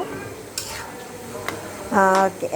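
Spiced marinated meat stirred in a pot for biryani, with a light sizzle and a few scraping stirs close by, plus a brief tonal clatter near the end.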